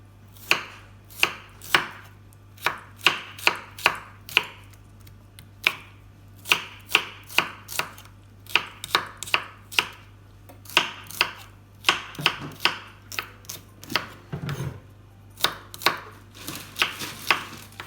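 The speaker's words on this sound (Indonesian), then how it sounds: "pisau yang cantik dan tajam ini keluar dari stand cookware empat siung bawang merah" Four shallots chopped with a sharp knife on a board, giving a long run of crisp, close knife taps in quick bursts with short pauses between them, heard alone with no talk.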